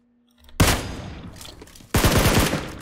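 Gunfire from a Scar assault rifle in the video game PUBG Mobile, loud bursts with a sharp onset, a dense stretch, then a second rapid volley of close shots near the end.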